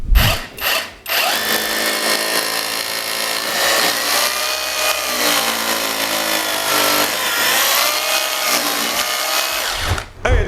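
A brushless power drill whirs loudly and steadily for about ten seconds in plain drilling mode, its motor pitch wavering slightly as it bites, with brief pauses at the very start and end.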